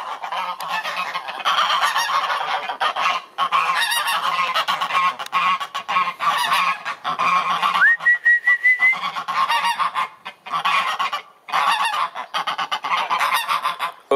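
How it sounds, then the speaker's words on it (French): Geese on a snowy farm honking loudly and repeatedly up close, a busy overlapping chorus of calls with a brief whistle-like note in the middle. "Vous avez eu le droit à une petite interaction avec les oies."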